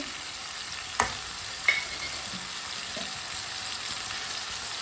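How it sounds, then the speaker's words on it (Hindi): Finely chopped tomatoes and green chillies frying over high heat, a steady broadband sizzle with a few sharp stirring clacks near the start. "आधा किलो बारीक कटे हुए टमाटर डाल लेंगे। 4 सब्ज़ मिर्च बारीक कटी हुई।"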